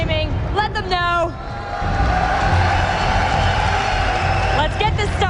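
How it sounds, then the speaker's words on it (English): Large esports arena crowd cheering for SK Gaming at a Season 2 European Regionals match, a loud sustained roar with whoops, an announcer's voice rising over it at the start and end. "And if you're cheering for SK Gaming,"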